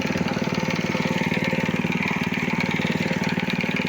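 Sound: homemade self-propelled cart engine driving uphill with bricks

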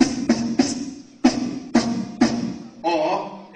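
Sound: beatboxed snare drum imitated by voice

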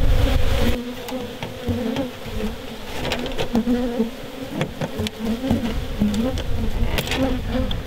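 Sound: honey bees buzzing around hive box

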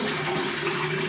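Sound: pouring hot water onto soap

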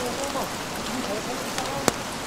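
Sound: rain during a mountain hike

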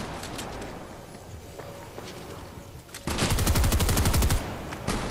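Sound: gunfire hitting an enemy, from a video game

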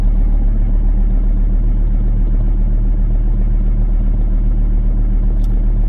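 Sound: car engine running after start

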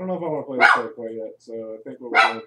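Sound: dog barking

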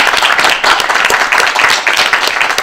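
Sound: audience applause welcoming a guest

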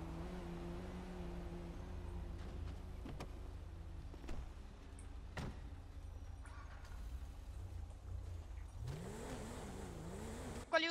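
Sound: car engine revving

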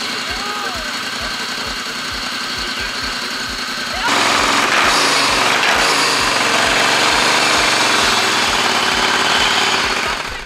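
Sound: tuned supercharged two-cylinder engine running

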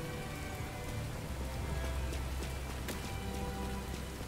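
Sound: rain at Dante's old house in the video game Devil May Cry 5

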